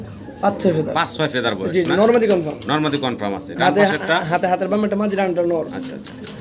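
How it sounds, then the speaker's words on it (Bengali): Pigeons coo softly at a fancy pigeon seller's stall while someone talks throughout, the birds' low rolling calls sitting under his voice. "এটা ভাই নতুন কবুতর"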